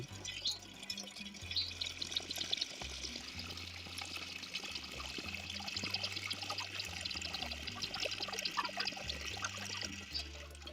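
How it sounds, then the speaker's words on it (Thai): A Samsung washing machine, under repair after rats chewed its wiring, fills with water in a continuous soft pouring and trickling flow with a faint background hum, steady and without talking. "เพื่อเป็นการเทสการทำงานนะครับว่าการ จ่ายน้ำของเครื่องเป็นยังไงบ้าง ปกติหรือไม่"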